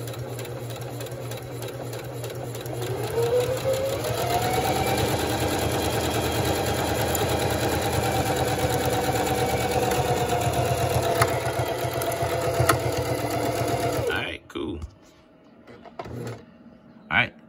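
A Singer Classic Heavy Duty sewing machine stitching fabric, its fast steady motor whir and rapid needle clatter rising after a few seconds and running continuously up close before stopping abruptly near the end.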